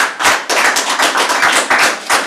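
Audience applause at a planning commission meeting, a dense crowd of hands clapping steadily and loudly up close for a couple of seconds, with no voices over it.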